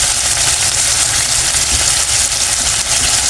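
Squid fries in a pan with a loud, dense, constant hiss that holds evenly throughout, close up and with no pauses.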